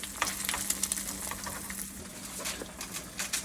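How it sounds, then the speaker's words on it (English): Eggs and bologna fry in a pan with a steady close sizzle, a faint hum running underneath and scattered pops and crackles throughout. "There's my fried eggs, bologna."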